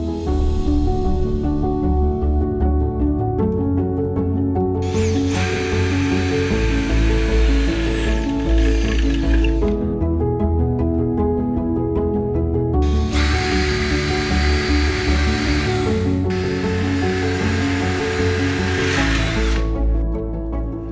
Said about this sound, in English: Continue to mark and pre-drill all ring beams in a similar manner.